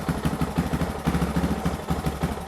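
A Suzuki DR650 single-cylinder motorcycle engine idles low and lumpy at close range, a steady uneven putter with a regular pulsing beat and no one speaking.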